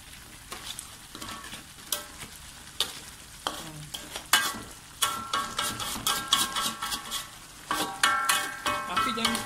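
Crab sambal with egg-laden crabs sizzling in a pan while a spatula scrapes and stirs it, loud clattering strokes coming in irregular bursts over a steady frying hiss, with no talking.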